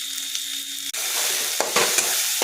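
Chili powder, turmeric and salt frying in oil with garlic in a pan, a steady close sizzle broken by a few short scraping stirs of a spoon.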